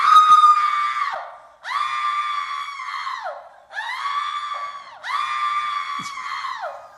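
Several people scream together in four long, loud, high-pitched bursts separated by short pauses, with no talking over them.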